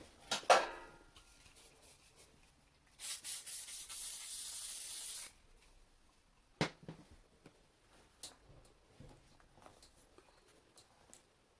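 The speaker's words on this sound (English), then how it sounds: "You can just give that a wee light spray." A spray bottle lightly mists hair on a mannequin head in a steady burst of short hissing pumps lasting a couple of seconds, among quiet handling rustles and soft taps.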